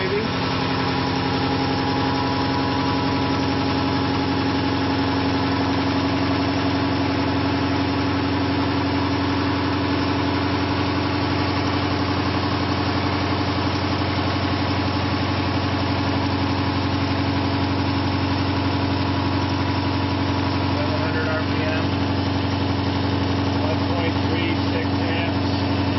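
A ReGen-X generator motor running at around 800 RPM while charging batteries gives a steady, continuous mechanical hum and whine with strong tonal bands. It holds unchanged throughout at a fairly loud level.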